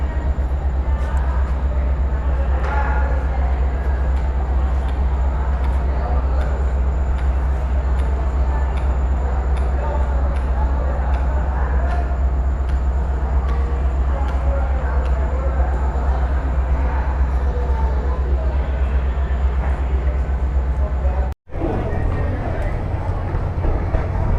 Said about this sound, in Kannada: ಆನ್ ಟೈಮ್ ಆಗಿ ಡಿಪಾರ್ಟ್ ಆಗಿದೆ ವಿಜಯಪುರದಿಂದ ನಮ್ಮ ಟ್ರೈನ್